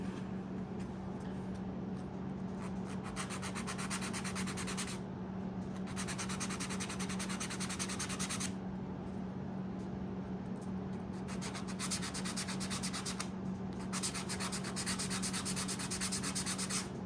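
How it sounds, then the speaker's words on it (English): Sandpaper rubs back and forth against a DIY laser-engraver riser in several sustained scratchy passes separated by brief pauses, over a constant low background hum. "I'm going to take a little bit of sandpaper"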